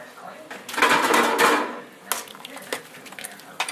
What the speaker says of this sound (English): we're putting our wedding meatballs in